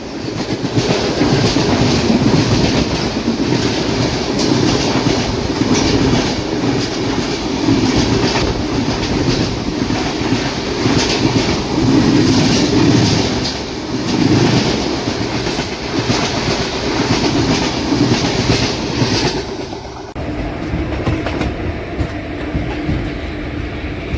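The 17645 Secunderabad to Repalle express train runs on the rails with loud, continuous rumbling and clickety-clack wheel beats close by, easing slightly toward the end.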